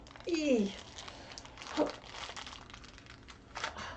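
Wrapping paper and packaging crinkling and tearing as a wrapped box from a Wizarding World advent calendar is opened; a few short, close rustling bursts with quieter handling noise between them.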